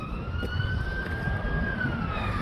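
A police siren wails steadily in the distance in St Austell, its tone slowly rising and falling over a constant rumble of traffic.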